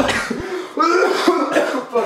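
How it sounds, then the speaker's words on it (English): Harsh coughs burst out close to the microphone, a short sputtering fit of two or three hacks with brief breaths between them. "it's making me cough"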